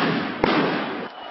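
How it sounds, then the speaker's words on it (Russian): A sharp firecracker blast bursts out against the steady roar of a street protest crowd at a police cordon, set off near the start and followed by rumbling commotion. "примерно после полудня в сторону кордонов милиции внезапно полетели взрывпакеты и дымовые шашки"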